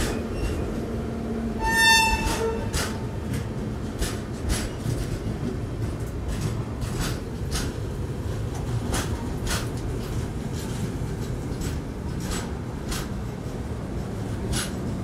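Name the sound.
Jallianwala Bagh Express train (Sealdah–Amritsar) arriving at Govindpuri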